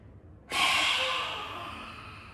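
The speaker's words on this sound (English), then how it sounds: "inhale normally" One sharp nasal inhale starts abruptly and then tapers over about two seconds, close and breathy, taken during a yoga breathing exercise.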